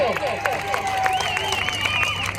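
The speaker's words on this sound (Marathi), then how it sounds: "जोरदार टाळ्या मित्रांनो" Spectators applauding at an outdoor kabaddi match in a Raigad district trial, a continuous rattle of clapping and crowd noise mixed with shrill tonal calls and a voice over the top.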